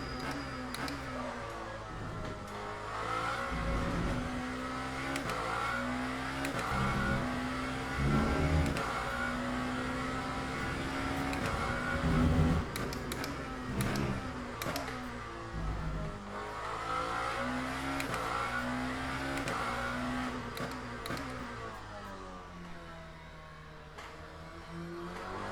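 Lamborghini hypercar driven on track in Le Mans Ultimate, engine note climbing and dropping through repeated upshifts and downshifts, a loud sustained race-car drone with faint tire squeal near corners.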